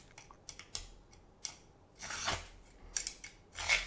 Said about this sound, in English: You can take the edge of a cut and just scrape it.